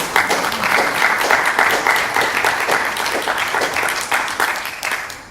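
An audience applauds after a presentation, a dense, steady burst of many hands clapping at close range that carries on for several seconds before tapering off at the end.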